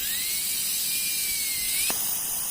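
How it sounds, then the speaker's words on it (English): Compressed air canister spraying into a laptop's cooling fan, a steady high hiss with the fan whirring and shifting pitch as it spins up, then a brief sharp click near the end. "Start spraying some air here. It will start spinning the fan."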